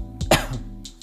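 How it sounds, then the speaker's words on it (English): A single short cough from an adult man, close and dry, with a brief throat sound before it and quiet room tone after. "Excuse me, I had a little cough"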